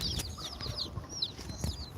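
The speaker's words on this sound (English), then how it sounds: "There's Rocco the rooster, Ray. He comes when I call him" Free-ranging chickens cluck in short bursts close by while a rooster approaches, its calls mixing with rustling and footsteps outdoors.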